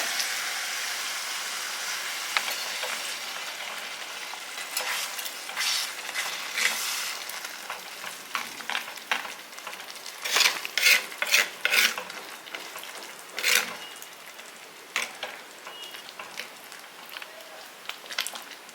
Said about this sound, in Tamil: இது நல்லா கொதிச்சு வரட்டும்